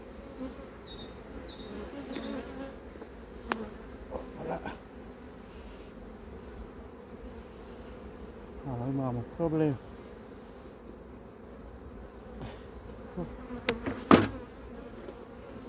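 Honey bees hum at an open hive as frames of foundation go in, a low steady drone close by with occasional bees passing near, under brief spoken words and handling clicks.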